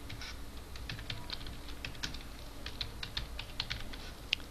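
Rapid, irregular keystrokes on a computer keyboard, close and steady for several seconds with a few sharper clacks toward the end, no voices.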